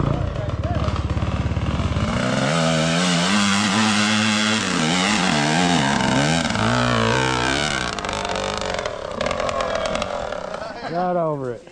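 Off-road motorcycle ripping through the Brown Flats trails with a group, engine loud and close, revving hard and rising and falling in pitch as the rider pops wheelies, with a final sharp rev near the end.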